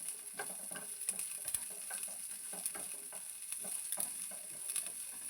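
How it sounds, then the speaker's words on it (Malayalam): Shallots, garlic, ginger and curry leaves frying in oil give a steady crackling sizzle, with irregular stirring scrapes over it, close and fairly quiet, with no talk. "ഒരു 5-8 വെളുത്തുള്ളിയും ഒരു കഷ്ണം ഇഞ്ചിയും കുറച്ച് കറിവേപ്പിലയും ചേർത്ത് അതും ഒന്ന് വറുത്തെടുക്കണം."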